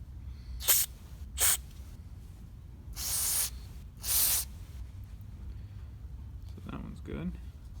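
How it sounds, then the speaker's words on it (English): Several short, sharp aerosol bursts of carburetor cleaner hiss close up on an ATV carburetor, two brief ones then two longer ones, followed by quieter spraying. "just going to spray kind of the outside of this carb off real quick."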